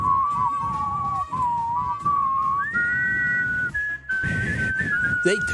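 Someone whistles a wavering tune up close, notes sliding and rising with small breaks between phrases, over a faint low background.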